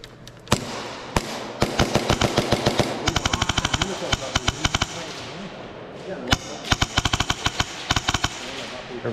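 Rapid airsoft gunfire in close-quarters urban play, loud sharp bursts of quick shots in several strings, with short pauses between bursts.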